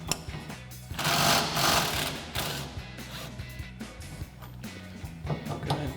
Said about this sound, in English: We're going to use our 18mm socket on our impact and a 19mm wrench.